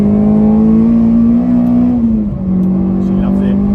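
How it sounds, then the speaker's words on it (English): A K24-engined Honda Civic Type R growls with a deep, steady intake drone while revving, dipping briefly mid-way before settling back into a loud, close rumble. "hear that Teguer intake really growling"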